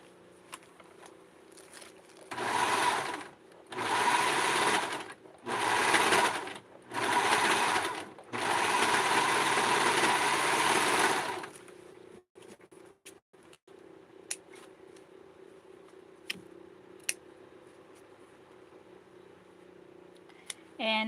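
A sewing machine stitches a small doll dress in four short runs of steady, buzzing whir, the last and longest about three seconds, each separated by brief pauses, followed by quiet handling clicks.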